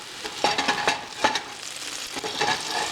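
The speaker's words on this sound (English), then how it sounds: "And over here we just got some butter frying." Butter frying in a pan, a soft close sizzle with a few sharper crackles and spits scattered across a short stretch, no voices.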